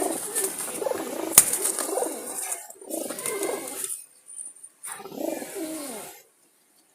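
Jalali pigeons coo and call while the males fight, making repeated bursts of nearby throaty cooing separated by short pauses, with a sharp click and a few soft wing flutters.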